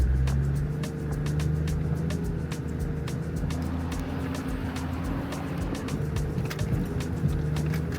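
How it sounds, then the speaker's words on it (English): A four-wheel drive vehicle grinds along a rough off-road track in Green Spain, a steady low engine drone with bumping and rattling throughout, loud and close, with no talk. "that was a brutal four-wheel drive track"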